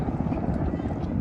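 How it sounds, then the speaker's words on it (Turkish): A helicopter's rotor thrums steadily overhead with a dense, low chopping roar throughout the short moment, at an aviation museum. "Bak helikopterler yine havada geziyor."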